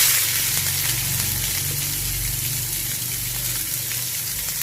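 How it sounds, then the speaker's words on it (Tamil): Chopped onion and a single green chilli hitting hot tempering oil in a simple bachelor-style side dish, a loud, steady hiss and sizzle close by with a low rumbling hum beneath, no talk. "இது பொரிஞ்சாட்டில் வெட்டி வச்ச வெங்காயமும் ஒரே ஒரு பச்சை மிளகாவும் சேர்த்துக்கோங்க."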